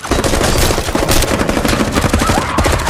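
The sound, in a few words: gunfire from guns in a drama scene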